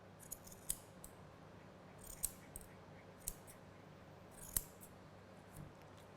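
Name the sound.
scissors cutting poodle fur straight across the eyes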